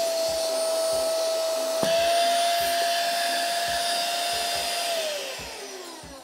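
A handheld car vacuum cleaner runs steadily with a high motor whine and a brief click partway, then winds down near the end.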